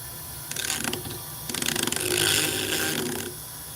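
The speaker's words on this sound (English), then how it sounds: "Let's get our Dremel going here." A Dremel rotary tool grinding off a burr, buzzing in short bursts with brief pauses, then a longer steady grind before it stops; fairly close and moderately loud, no talking.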